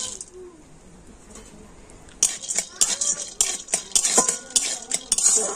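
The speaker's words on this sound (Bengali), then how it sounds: "তো এখন আমি একটু ঘিয়ের মধ্যে ভেজে নিচ্ছি।" Peanuts lightly fried in ghee for nut candy, quiet at first, then a run of spoon scrapes and clatters against the pan with a soft sizzle beneath.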